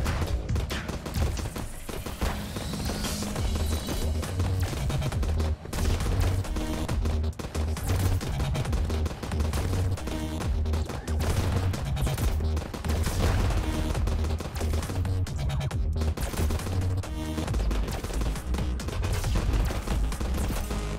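Enemy gunfire in the space shooter game Starward Rogue, dense rapid bursts of shots layered over a constant loud game soundtrack throughout.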